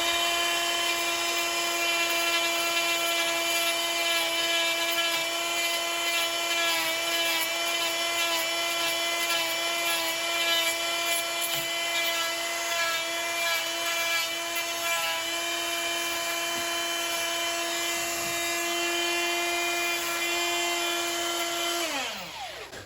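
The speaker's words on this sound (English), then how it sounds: "we can just use a Makita die grinder with a bonsai tool in the end," A Makita die grinder with a bonsai tool bit neatens a cut section on a Cedar of Lebanon bonsai, a close, steady high-pitched whine that holds for about twenty seconds before winding down.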